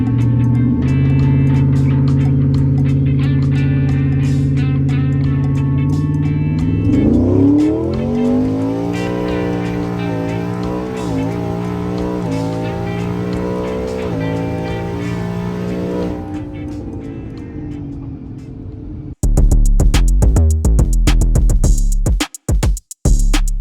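A twin-turbo Ford F-150 pickup launches down a drag strip at Houston Motorsports Park, its engine climbing loudly through rising revs and gear changes before the sound cuts away to a harsher burst of noise.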